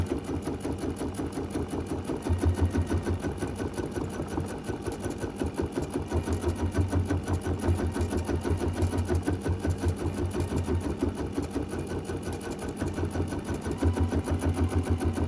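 A sewing machine quilts a design on a mini quilt, running in a fast, steady rhythmic stitching patter with slight surges in pace, close and continuous.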